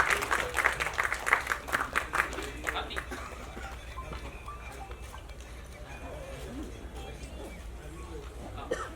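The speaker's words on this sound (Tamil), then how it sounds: "நல்ல ஒரு அரங்கம் நிறைந்த கைத்தட்டலை தரணும்" Audience applause at the Sir movie audio launch, a burst of loud clapping and cheering that fades into a quieter hall with scattered claps and some talk.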